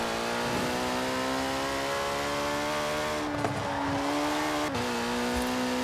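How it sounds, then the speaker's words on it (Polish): A Jaguar car engine in the Forza Horizon 4 video game holds a steady high rev, with the pitch shifting a couple of times and then settling again. It plays loud and alone, with no talking. "Nie jest taki super wyrazisty ten dźwięk samochodu, ale jest okej"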